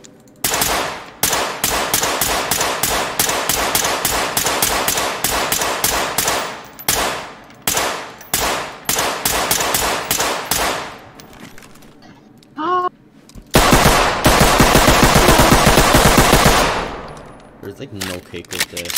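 Gunfire in the tactical shooter Ready or Not: long, loud automatic bursts of rapid shots, broken by short pauses, a brief whirring sound, then another sustained burst that fades out.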